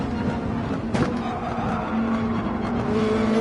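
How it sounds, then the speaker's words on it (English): A race car in Gran Turismo 7 brakes at the bottom of a hill at Willow Springs, a steady engine drone with a brief tire scrub, close and continuous, no talking. "Alright, bottom of the hill braking here."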